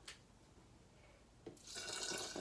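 Water poured from a container onto rice, a faint click, then a rushing, splashing pour that begins halfway through and runs steadily to the end.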